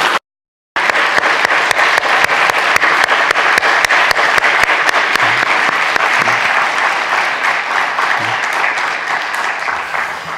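A church congregation applauds at a revival gathering marking a church's 30th anniversary. Loud, sustained clapping bursts in after a brief silence and continues steadily, with crisp individual claps, gradually easing toward the end.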